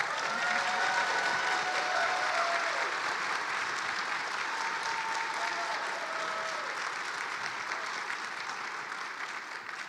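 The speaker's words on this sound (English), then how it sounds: "give our panelists another round of applause" Audience at a housing conference plenary session applauds its panelists with sustained, dense clapping across a large room, steady for about ten seconds and easing slightly toward the end.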